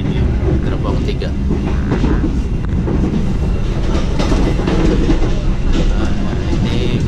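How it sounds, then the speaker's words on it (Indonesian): Sriwijaya premium-class passenger train running on rails between Bandar Lampung and Palembang, heard from inside a carriage as a steady loud rumble with faint rhythmic clatter, and a voice talking over it. "Ini kereta api Sriwijaya jurusan Bandar Lampung Palembang."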